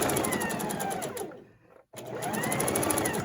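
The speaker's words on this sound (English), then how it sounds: "as we're sewing along here" A sewing machine stitches mitered black fabric on a Christmas table runner in a fast, steady mechanical whir, stopping for a moment before starting up again, close and alone.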